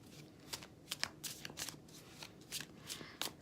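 A Gilded Tarot card deck being shuffled by hand up close: quiet, irregular bursts of riffling and sliding cards, several short flurries over a few seconds, with no talking.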